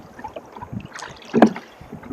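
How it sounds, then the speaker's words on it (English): Oars work a rowboat up the coast in the early morning, soft rhythmic splashes and water swirls with a stronger stroke near the middle, under light wind noise. "started to row up the coast"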